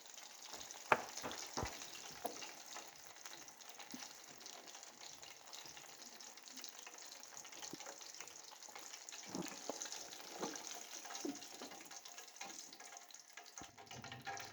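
KFC-style chicken pieces deep frying in hot oil, a steady close sizzle and bubbling throughout with a few sharp pops and crackles, no talking.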